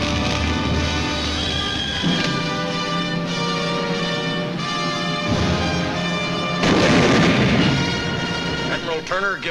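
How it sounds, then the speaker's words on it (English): A WWII mortar barrage at the Battle of Iwo Jima in 1945, a dense, continuous roar of blasts and booming impacts that swells louder near the end. "A mortar barrage searches out hidden machine gun nests."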